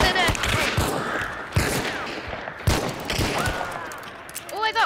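Gunshots in Hunt: Showdown, several sharp separate cracks spread unevenly across a few seconds under people talking, with rising whistling tones at the end.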